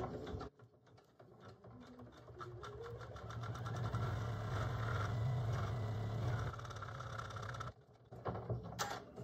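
An embroidery machine sews a satin stitch in white contrast thread, making a fast mechanical whir and clatter that rises and holds steady, then breaks off briefly near the end before restarting.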